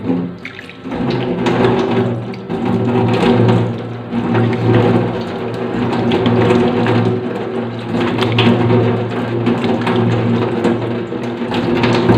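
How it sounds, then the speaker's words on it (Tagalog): Running water from a tap as someone rinses their face during a skincare routine, a loud, steady splashing stream with a low hum underneath, continuing throughout without talk. "Kaya magbabanlaw na tayo ng ating tubig."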